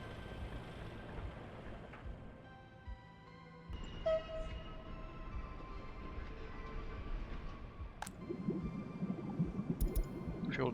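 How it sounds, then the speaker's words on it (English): A coal train rolls through a city-building game, a steady rumbling rail sound with clanks and a few sharp metallic hits, mid-distance and fairly loud, with no talking over it. "You can bring in a train load of coal, so the power plant can start earlier."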